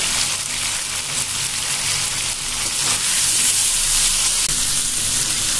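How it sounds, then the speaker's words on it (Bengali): Prawns fry in a pan with chopped onion, a steady bright sizzle that holds close and even, growing slightly louder toward the end. "চিংড়িটাকে আমরা একটু ভাজবো"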